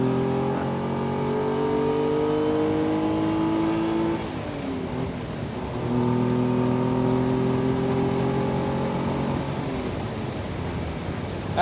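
A Ferrari Dino 246 GTS engine accelerates hard in third gear, its pitch climbing steadily, easing briefly at a shift and then rising again, heard from inside the car as a sustained, smooth roar.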